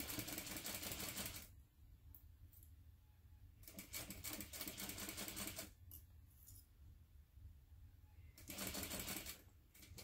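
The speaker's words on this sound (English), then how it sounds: "Now I'm going to sew along the angled edge only using a 1/4 inch seam allowance" Sewing machine stitching along the angled edge of a fabric envelope wallet, bursts of rapid mechanical whirring separated by pauses, close and clear with no talk.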